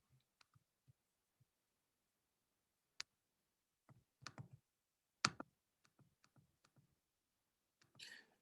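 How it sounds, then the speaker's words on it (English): Typing on a computer keyboard from an unmuted participant in an online class, sparse, faint clicks and taps in irregular bursts against near silence. "somebody isn't on mute, so I can hear you typing"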